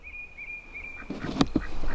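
Ducks on a farm give a couple of short, close quacks near the end, following a faint thin tone and light background rustle.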